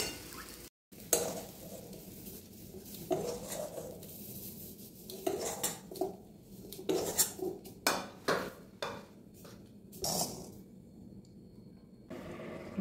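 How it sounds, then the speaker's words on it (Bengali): A wok of fried green pea paste is handled and lifted off the stove, making a series of quiet metallic clanks, scrapes and knocks in irregular bursts, with no speech. "এবার আমি কড়াই থেকে নামিয়ে নেব।"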